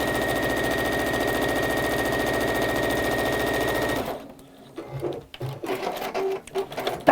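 A sewing machine running fast and steady through fabric for about four seconds, a close, even mechanical chatter that stops abruptly, followed by quieter handling noises.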